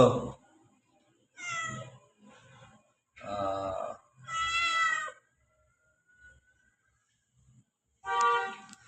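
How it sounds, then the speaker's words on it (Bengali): A pregnant cat meows several times in short, nasal calls separated by pauses, close by, with a brief human murmur at the start. "ম্যাও ম্যাও বলতেছে"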